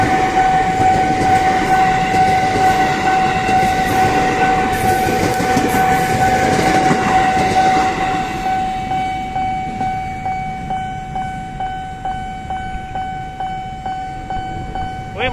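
A KRL commuter train runs past the JPL 2 level crossing in Menteng, with a steady, loud warning tone over the train noise, then rhythmic wheel clatter as the carriages roll by.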